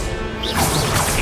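An Expelliarmus spell is cast in Hogwarts Legacy, a brief loud magical crash with a swooshing burst, dense and close for just over a second.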